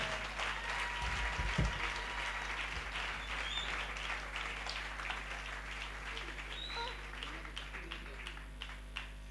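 A church gathering's audience claps and cheers loudly in a long continuous burst of applause, with a low hum underneath and scattered shouts rising through it.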